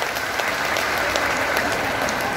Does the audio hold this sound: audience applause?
yes